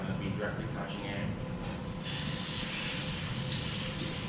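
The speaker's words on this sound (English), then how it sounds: "As you can hear, it's making a nice sizzle sound." Kurobuta pork sizzles in a hot pan, a steady crackling hiss that brightens and intensifies partway through, with someone speaking over it.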